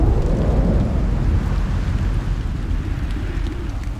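Thunder rumbles over steady torrential rain in a stormy forest, a continuous loud low roar of downpour and rolling thunder filling the whole stretch.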